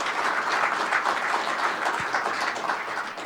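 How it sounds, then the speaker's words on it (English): An audience at a farming conference's cattle breakout session claps together in a dense, steady round of applause, close and even throughout the short stretch, without any voices over it. "Let's give Brian and Kelly a round of applause for their time today"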